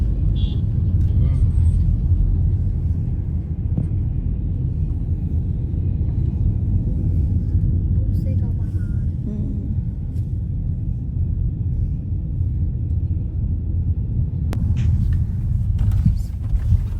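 Heavy road traffic near a toll plaza, with large trucks and loaders rumbling past in a steady low drone, heard from inside a moving vehicle, with occasional people talking.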